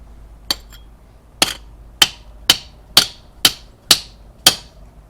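A seal puller is hammered on a Chevy HHR transmission seal, eight sharp metallic strikes, the first two spaced apart and the rest in a quick, even rhythm, loud and close with no talk.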